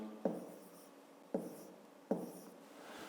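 A pen or pencil writes numbers by hand on paper during a fifth-grade math exercise, with three short scratching strokes separated by brief pauses, close and quiet.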